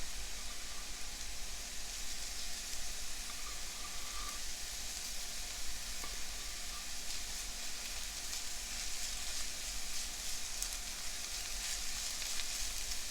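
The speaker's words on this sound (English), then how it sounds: "Don't burn the garlic." Garlic frying in a pan makes a steady, dense sizzling hiss up close that holds evenly the whole time, with no voices.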